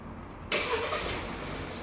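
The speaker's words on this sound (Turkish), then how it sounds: "Açın kontağı." A Kia Stonic car engine cranks and catches with the ignition, a sudden loud start that settles into a steady near idle, with no voices.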